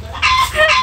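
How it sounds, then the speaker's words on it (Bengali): A rooster clucks in a few loud, close, short bursts with no speech over it, set in a Bangladeshi village home yard. "এটা তো মোরগ"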